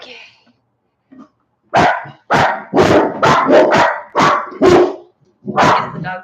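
Several dogs bark in quick, loud bursts close by, about eight sharp barks in a row after a brief quiet start.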